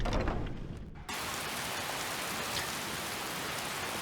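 Steady rain in Skyrim, a dense, even hiss of falling drops that keeps on without pause, with a brief thinner patch near the start before the full downpour returns.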